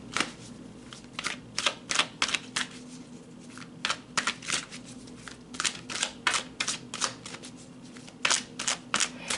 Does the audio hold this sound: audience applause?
no